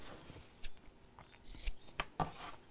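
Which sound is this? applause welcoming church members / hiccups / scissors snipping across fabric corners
scissors snipping across fabric corners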